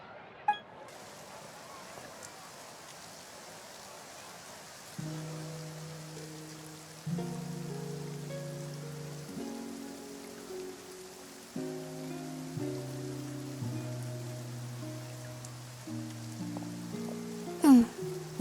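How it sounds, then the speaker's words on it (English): Rain falls in Fontaine in the game Genshin Impact as a soft, faint, even hiss, with gentle sustained music notes rising above it and no talking. "Looks like rain."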